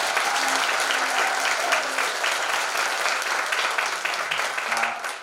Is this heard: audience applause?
yes